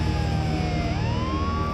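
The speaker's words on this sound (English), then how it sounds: "an ambulance is rushing Johnny to the hospital" An ambulance siren wails with a sweeping tone that dips and then rises again, heard over a broad rumble of traffic or engine noise at moderate distance.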